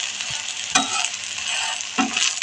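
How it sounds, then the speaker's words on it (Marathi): A potato and semolina snack fries in a pan, sending up a steady close sizzle with a couple of brief scraping knocks as it is turned. "आपण ह्याला चांगला मस्तपैकी गोल्डन कलर येऊपर्यंत पूर्ण भाजून घेऊया"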